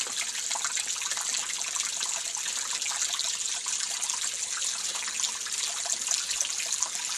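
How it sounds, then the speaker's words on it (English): A pond pump feeds a small fountain whose water trickles steadily over waterfall stones, a constant close splashing hiss without pauses or voices. "Now that the pump's turned on, we have a little fountain"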